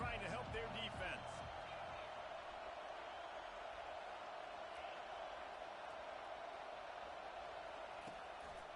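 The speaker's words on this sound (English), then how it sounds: "Listen to this crowd just shaking the girders of this place, trying to help their defense." A loud, steady stadium crowd roars throughout a Miami football game, cheering on the defense. The dense wash of noise stays near and constant, with a brief burst of sharper sounds at the start.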